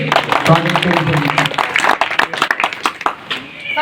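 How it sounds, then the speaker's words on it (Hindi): A crowd at a BJP candidate's street-corner election rally claps loudly in welcome. Voices are heard at first, then sharp, separate hand claps carry on close by. "एक बार जोरदार ताली बजा के स्वागत करें"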